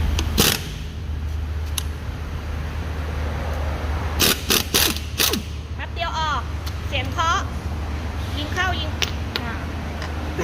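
A lightweight Japanese TONE pneumatic impact wrench fires in several short, loud rattling bursts over a steady background hum, with someone talking between the bursts.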